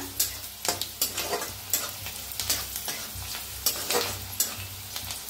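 Onion frying in hot oil in a kadhai, a dense close sizzle with repeated spatula scrapes and stirring knocks at a steady pace, moderately loud and without speech.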